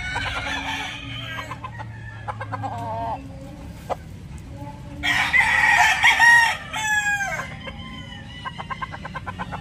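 An Alimbuyogin rooster at a market in Tabunok, Cebu crows loudly and close, with a drawn-out call midway, amid repeated clucks and short calls from the bird.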